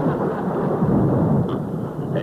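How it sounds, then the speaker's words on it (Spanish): Heavy rain pouring down during a jungle storm, with deep rolling thunder rumbling underneath. The downpour is a dense, continuous hiss, and faint voices may be present in the background. "Nunca he visto llover de esta forma."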